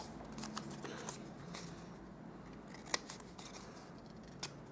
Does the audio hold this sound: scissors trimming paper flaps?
yes